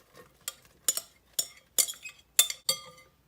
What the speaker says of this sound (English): we're going to just put our cucumbers and our onions in our bowl